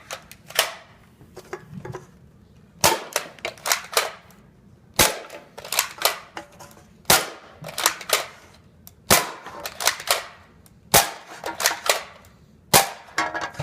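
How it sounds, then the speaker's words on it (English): A gun fires repeatedly at a soda can, each shot a sharp snapping crack; many cracks come in uneven clusters, more than six, with clicks and faint rattles between them. "I'm going to be shooting it 6 times, seeing how much damage a full clip can do."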